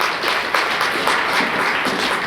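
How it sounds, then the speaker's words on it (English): An audience at a FICCI ladies' organisation event in Chennai applauds, a dense, sustained burst of many hands clapping for a couple of seconds. "So give her a big round of applause for being here today."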